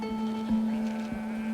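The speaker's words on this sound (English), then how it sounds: "Approaching the small village of Chakura, we encounter some local children bringing in their family's flock of sheep for the night." Sheep bleat in a flock being driven home for the night near a small Andean village in Bolivia, with a steady tonal drone running through the clip and a couple of brief louder bleats over it.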